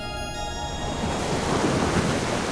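Waves and wind at sea during a winter gale off Cape Hatteras, North Carolina: a loud, continuous rush of surf and wind noise that swells toward the end.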